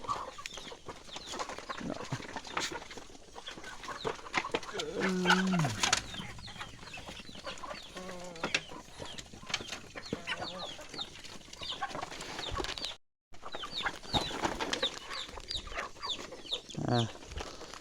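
Chickens cluck steadily around a farmyard in the early morning, with overlapping calls close by and farther off and a few louder, sharper squawks breaking through.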